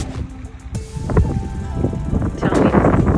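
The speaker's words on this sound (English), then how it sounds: "Excuse the whistling, the wind. It's pretty windy today." Gusty wind buffets the microphone with a low rumble and a faint whistling tone, steady and close, with some voice and movement underneath.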